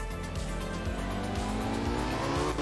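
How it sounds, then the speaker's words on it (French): Porsche rally car in the Art of Rally video game sliding across a wet road with puddles, its engine droning steadily with tire squeal and skidding noise mixed in, loud and continuous throughout. "La voiture glisse vraiment, comme je l'entends là."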